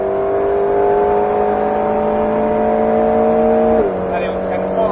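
An Alpine A110S engine pulls hard under acceleration on the Alès race circuit, a loud, rising in-car drone that shifts up through a gear change near the end, with a voice speaking over it.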